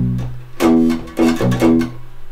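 Deep bass guitar notes played in a punchy, repeating groove, short plucked attacks over a sustained low line, alone without voices.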